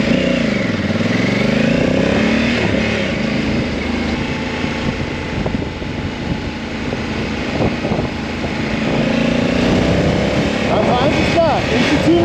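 Honda Africa Twin 2022 motorcycle engine droning loudly and steadily as it rides and accelerates, mixed with wind rush and a rising pitch near the end.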